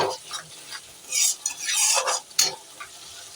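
Spice paste for ghugni frying and being stirred in a pan, with uneven bursts of spatula scraping over a crackling sizzle, close and fairly loud.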